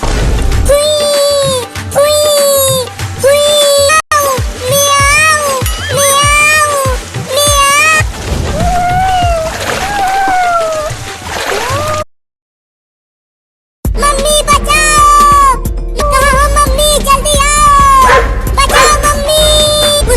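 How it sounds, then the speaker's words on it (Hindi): Repeated high-pitched meows from a small cat being caught by a dog, mixed with dog barks and yelps, loud and close, with a brief silent gap before the noisy calls resume. "छोटी बिल्ली को एक कुत्ता पकड़ रहा है"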